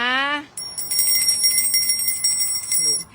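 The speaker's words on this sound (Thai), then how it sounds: "ใช้สักหน่อยกระดิ่งอุตส่าห์ซื้อมา" A small bell, bought for a house listing in Krathum Baen, rings with bright sustained metallic tones lasting most of the clip, loud and close, after a brief burst of speech at the start.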